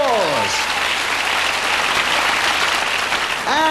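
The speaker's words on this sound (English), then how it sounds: "Give her a round of applause." A theatre audience at a 1988 children's royal variety show applauds as a contestant comes on stage, with a sustained, even wash of clapping and a brief high tone at the start and end.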